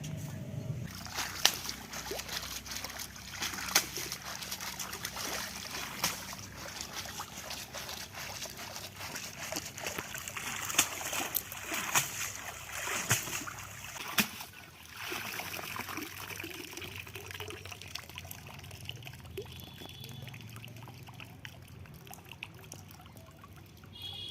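Water lily tubers (shaluk) being washed by hand in water make trickling, sloshing and splashing sounds, close and fairly quiet, with intermittent handling noises over a long stretch.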